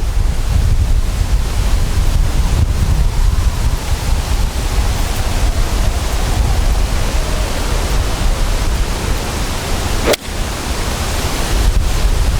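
Strong wind buffets across an open golf course, a loud continuous roar rushing over the microphone with no break and no voices.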